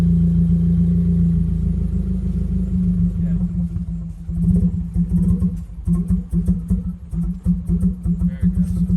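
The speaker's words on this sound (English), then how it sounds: "you're going to want to go start your car and let the fuel pressure drop" A Subaru WRX engine idles steadily in a low, continuous rumble, left running until the fuel pressure drops, with the tone wavering and loosening somewhat in the second half.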